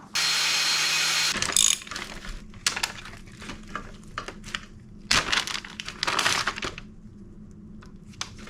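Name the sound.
chain tool cutting motorcycle chain links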